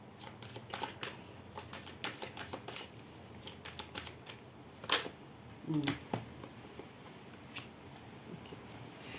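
Oracle cards from a mirror-themed deck are shuffled during a card reading, with a dense run of soft papery riffles and flicks, a sharper snap near the middle, close and fairly quiet.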